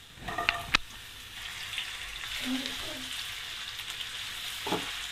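Chopped carrot frying in a little oil alongside lightly browned garlic, a soft, fairly quiet sizzle with a couple of sharp utensil knocks at the start and brief stirring scrapes later.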